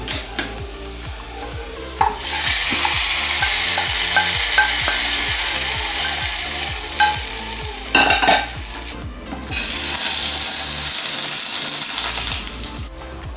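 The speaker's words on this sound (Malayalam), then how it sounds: "നന്നായിട്ട് ഇളക്കുക." A spoon stirs Kuttanadan fish curry (vatta curry) in a pan with steady scraping and clinking, while the curry sizzles loudly and continuously over the heat.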